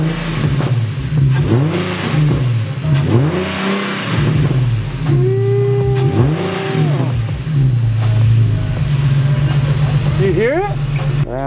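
An Infiniti G37 engine fitted with a new intake runs loudly nearby, idling with a steady low rumble and revving up several times, pitch rising and falling with each rev.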